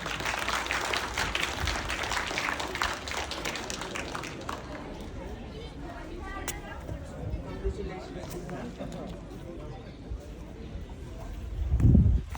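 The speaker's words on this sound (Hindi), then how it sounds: "तालियां बजाएं।" Scattered audience clapping at an afternoon quiz session in Tal Chhapar, moderate and steady, with talk and chatter running over it and a louder thump near the end.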